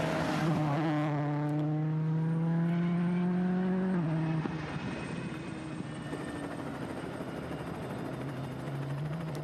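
Helicopter rotors thud steadily and loudly over the Monte Carlo WRC rally, with a rising engine tone that drops away midway, leaving a constant droning roar.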